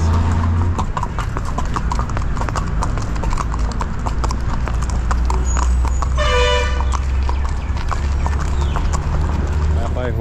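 Horse hooves clip-clop steadily and close on a street in Sri Lanka over a constant low traffic rumble, with a short vehicle horn toot partway through and faint background voices.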